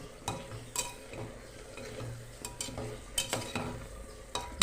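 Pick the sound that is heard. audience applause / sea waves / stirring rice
stirring rice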